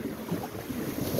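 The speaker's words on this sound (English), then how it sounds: "the wind's from the southwest, so it's blowing us nicely along the coast." Steady wind rushing past a sailboat under way along the coast with a southwest breeze, a broad continuous roar with low buffeting, close and fairly loud throughout with no talking.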